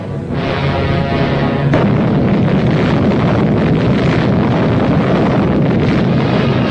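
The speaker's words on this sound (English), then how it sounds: "The gun fires an atomic shell." An Amazon Annie atomic cannon fires an atomic shell, giving a single heavy boom that swells into a long, loud, wind-buffeted rumble sustained for several seconds.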